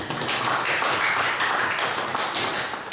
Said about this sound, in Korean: 우리 감사의 박수 한번 보내주세요.